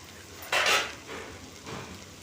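Fried kakrol (spiny gourd) is stirred in a pan with a utensil, giving three faint scraping strokes, the first strongest, against quiet kitchen background with no talk.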